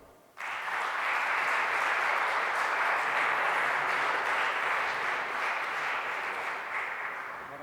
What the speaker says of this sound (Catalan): us demano un fort aplaudiment per a Vicent Partal